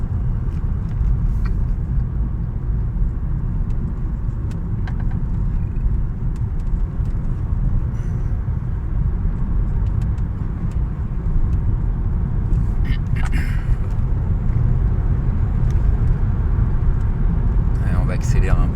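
Nissan Leaf 40 electric car driving on a road, a steady broadband road and tyre rumble that holds level throughout and swells slightly toward the end, with no engine note and no talk.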